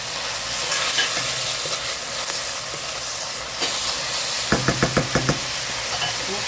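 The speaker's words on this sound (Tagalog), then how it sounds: "Haluin natin para mag-ano yung harina at saka sauce." Spare ribs with black beans, flour and sauce get stirred in a steaming pan, a constant sizzling hiss with scraping strokes, then a quick run of about six sharp knocks of a utensil against the pan.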